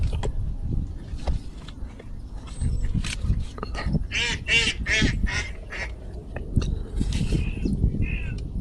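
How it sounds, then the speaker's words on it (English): Ducks flying over a river, a loose chorus of repeated nasal honks and quacks at moderate distance, rising and falling in bursts over outdoor wind and low background noise, with a voice briefly audible. "Ducks are all coming over this way there."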